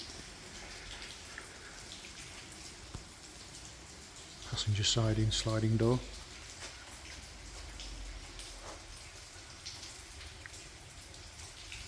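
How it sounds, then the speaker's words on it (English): Heavy rain patters steadily throughout, with someone talking briefly over it partway through. "Absolutely hammering it down with rain at the moment"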